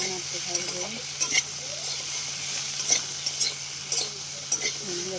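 Okra and other vegetables frying in oil in a pan just after turmeric is added: a steady, close sizzle with scattered sharp pops and crackles throughout, no voices.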